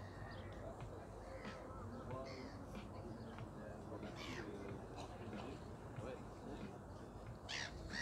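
Crows caw now and then over a busy seaside scene where people are swimming, their calls rising above steady crowd and outdoor background noise.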